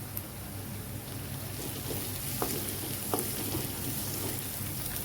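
Ground chili and a little turmeric sizzling in a pan for a potato and fenugreek vegetable dish, a faint, continuous crackling fry with scattered small pops and no voices.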